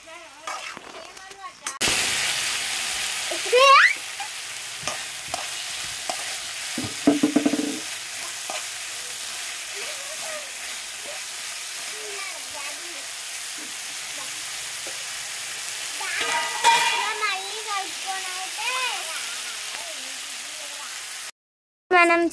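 Fried rice being stirred and mixed in a hot pan, with steady scraping and a soft continuous sizzle running throughout, plus scattered clinks of the utensil against the pan.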